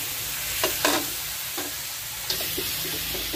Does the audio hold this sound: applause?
no